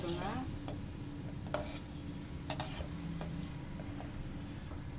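Gulab jamun balls frying in hot oil in a home kitchen, a steady broadband sizzle throughout with a few sharp clicks of a utensil gently turning the dough balls, close and moderately loud.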